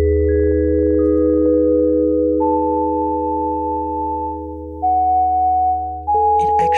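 Sustained synthesizer tones holding long notes that shift in pitch, with an added reverb giving a washy, spacious tail; a brief rattle enters near the end.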